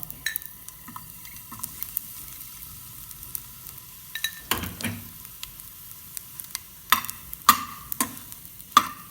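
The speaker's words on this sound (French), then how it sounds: "Là, nous faisons nos croûtons." Croutons frying in a teaspoon of oil with a garlic clove for a carrot velouté, a faint, steady sizzle with occasional sharp clinks and stirring scrapes of a utensil against the pan.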